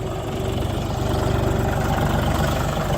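A Dongfeng 244 Lux tractor with a Solis rotary tiller idles close by, a steady rumbling engine with a constant low throb and slight vibration, unchanging throughout, no voices.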